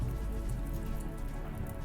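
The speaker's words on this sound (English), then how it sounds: "thank goodness the rain's coming" Rain patters steadily in the game RimWorld, a dense, even wash of droplets with no voices over it.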